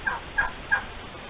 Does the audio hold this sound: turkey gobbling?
yes